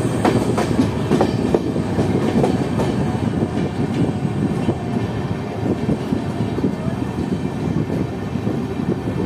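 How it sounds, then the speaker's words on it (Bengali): The Kaziranga Express rolls into Bolpur Shantiniketan station, a loud steady rumble with rhythmic clickety-clack of wheels over rail joints throughout, heard from on board with no talk. "আমাদের ট্রেন এসে পৌঁছালো বোলপুর শান্তিনিকেতন রেলওয়ে স্টেশন"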